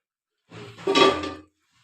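A tea pot is set down on a gas stove before corn popcorn is made: one brief, close metallic clunk and scrape, alone in otherwise quiet surroundings.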